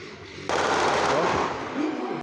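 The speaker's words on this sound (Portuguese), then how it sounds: "O som das rajadas podiam ser identificados de longe." Bursts of gunfire near a sports field, carrying from a distance: a sudden loud, dense crackling volley that starts about half a second in and stays sustained to the end, after a brief background hum with a faint voice.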